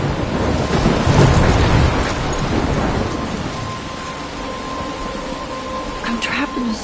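Heavy rain pours and thunder rumbles through a storm in the video game Life is Strange, loud and continuous, with the roar strongest at the start and easing slightly later.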